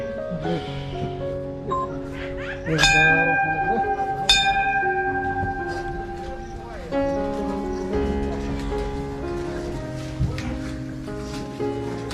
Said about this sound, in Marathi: तीन वेळा घंटी वाजते